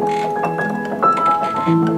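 An Offenbach DU-4 upright acoustic piano played softly with its quiet practice mode engaged, giving muted, mellow sustained notes and gentle chords at low volume, with no talking.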